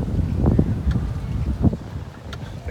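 Gusty breeze buffets the microphone outdoors at South Beach, Miami, a near, low rushing wind with a few stronger puffs over about three seconds.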